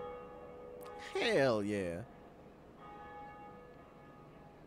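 The first bell is rung in Dark Souls, a long sustained church-bell tone with lingering harmonics that swells, fades, then returns as a fainter ring, while a man exclaims loudly over it.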